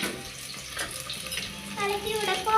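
Rice and lentils cook in a pan for arisi paruppu sadam while a spoon stirs them, producing close, sizzling, scraping and wet shuffling sounds.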